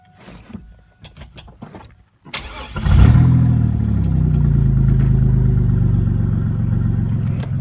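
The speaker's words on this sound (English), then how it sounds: "Gave a little gas and she stalled out." Twin-turbo Camaro engine cranks and catches after some clicks and shuffling, then settles into a loud, close, lumpy idle with a deep rumble that holds steady to the end.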